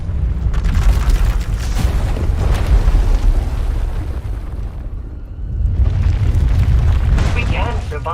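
A massive power eruption tears through an asylum in Star Wars: The Old Republic, a sustained low rumbling roar with booming bursts that swell, dip briefly, then surge again, loud and close.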